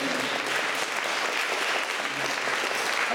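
Church congregation applauding during a worship service, a dense, steady wash of clapping that carries on loudly for the whole stretch with no pauses.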